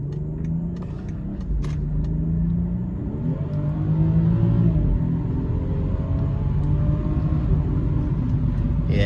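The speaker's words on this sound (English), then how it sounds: "that exhaust is nice" BMW 540i xDrive exhaust under acceleration, a steady rising engine drone with harmonic sweeps as revs climb, building louder through the middle, close and continuous with no talk.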